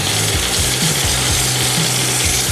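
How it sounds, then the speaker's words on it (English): Rough sanding of a wooden block with 80 grit sandpaper, likely on a lathe: a steady, close, loud rasping hiss over a low hum, with rhythmic pulses roughly twice a second and no talking. "the first sandpaper is 80 grit, and it does the initial rough sanding of the block"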